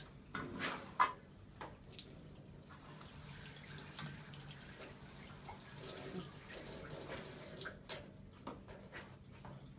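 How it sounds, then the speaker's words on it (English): Warm water runs steadily from a tap in a home bathroom, a continuous broadband wash with faint clinks and handling knocks near the start. "I'm going to start by turning the warm water on"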